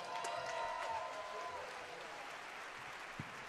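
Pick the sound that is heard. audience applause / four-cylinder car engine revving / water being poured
audience applause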